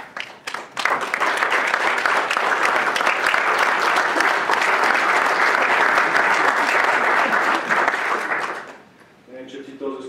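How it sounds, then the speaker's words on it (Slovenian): Audience at a political speaking event in Slovenia breaks into loud, sustained applause that fills most of the stretch, then fades as a single voice resumes speaking. "Ne vem, če ti to zasluži aplavz"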